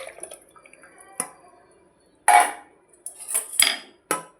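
Settled water poured into a pot of tomato kurma: a few short splashing bursts with metal clinks of the pot and utensils, close and fairly quiet, with no talking.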